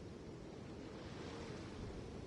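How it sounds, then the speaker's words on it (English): Ocean waves at a port in the Genshin game wash in a steady, faint broadband roar with no distinct breaks, alone without talk. "The sound of the waves in this familiar port."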